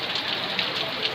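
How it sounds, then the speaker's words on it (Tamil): Heavy rain pours steadily outside a home on a rainy evening, a dense, even hiss of drops hitting surfaces close by, with no voices over it. "வெளியே மழை பயங்கரமாக பெய்யுதுங்க"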